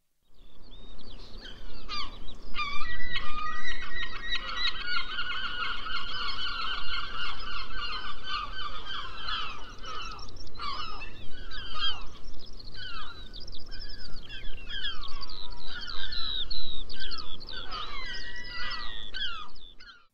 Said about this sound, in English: Herring gull, white maw, whitey, white ark,